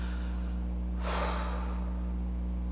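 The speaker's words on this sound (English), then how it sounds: "take a breath in and an exhale" A single deep breath drawn in and let out near the microphone, a soft broadband rush over a steady low hum, alone with no talk.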